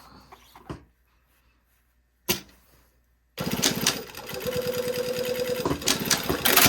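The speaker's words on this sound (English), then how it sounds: "now I'm gonna sew that back down." A sewing machine stitching garment lining: a couple of brief bumps and a pause, then a loud, close, steady rapid mechanical chatter of the needle running continuously for several seconds.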